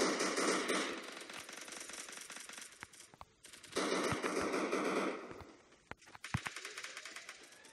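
Rapid bursts of automatic gunfire in a team shooter video game, loud and close, crackling in long sustained volleys separated by brief pauses, with sharper single shots near the end.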